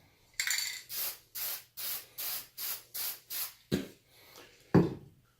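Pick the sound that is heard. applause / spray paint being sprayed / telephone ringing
spray paint being sprayed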